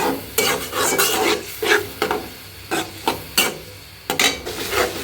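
Dried fish (shutki) being sautéed in a pot, with repeated scraping strokes of a spoon against metal at a steady rhythm over a low sizzle, close and clear.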